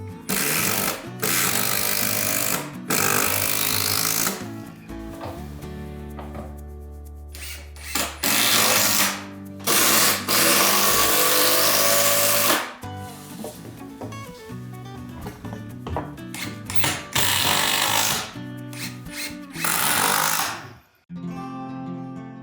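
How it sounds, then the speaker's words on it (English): A power driver sinks long screws into wooden floor planks and plywood underlay during an entrance renovation, its loud whirring bursts repeating several times with short pauses and clicks between drives. "The screws go in neatly."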